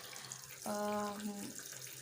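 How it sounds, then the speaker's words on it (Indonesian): Water gushes steadily into a Sharp ES-H758T 7.5 kg top-loading washing machine during its first wash cycle, a brief close filling surge with a resonant hum lasting under a second amid quieter background noise. "Proses pencucian pertama ya, masih dicuci."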